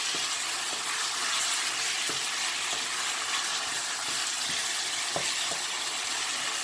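Shrimp, chopped garlic, tomatoes and vegetables frying in a pan under steady stirring, a continuous close sizzle broken by occasional soft scrapes of the utensil.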